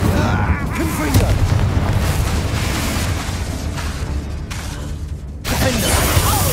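Explosive blasts and shattering debris from the Confringo fire spell in Hogwarts Legacy, dense booming impacts with crackling bursts over combat noise, cutting off briefly before resuming.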